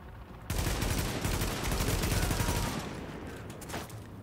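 Gunfire in The Division sounds in rapid sustained bursts, loud and close, a dense stream of shots that starts abruptly and then tapers into a few scattered rounds, with no talking.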